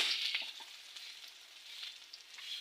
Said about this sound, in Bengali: এই তো পেঁয়াজ আর মরিচ দিয়ে দিলাম, আমি আলুটা ভেজে নেব।